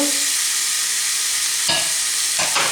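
Spices frying in a hot pan for chicken korma, a steady close sizzle with a couple of brief stirring scrapes near the end.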